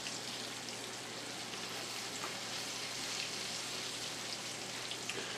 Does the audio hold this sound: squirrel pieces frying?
yes